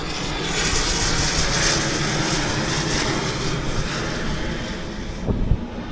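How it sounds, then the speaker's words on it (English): An airplane passes overhead outdoors, its engine drone a loud, broad, steady roar mixed with wind buffeting the microphone, slowly fading near the end with a brief knock. "Never fails that when I start recording, an airplane passes by."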